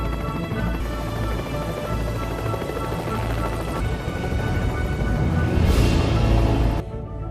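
A helicopter sets down to land in a Jurassic World film scene, its steady, loud rotor and engine roar holding throughout and swelling slightly near the end before cutting off abruptly.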